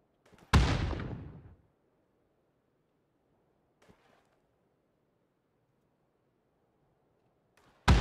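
Grenade blasts in PUBG: one loud, close explosion with a decaying rumble, a faint distant pop partway through, and another sharp blast at the end, with near silence between.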